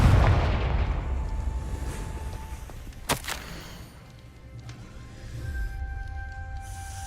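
A Confringo fire spell in Hogwarts Legacy goes off as a deep boom with a sharp crack midway, followed by a rumbling tail fading under game ambience.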